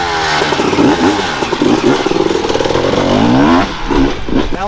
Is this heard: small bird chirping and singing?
no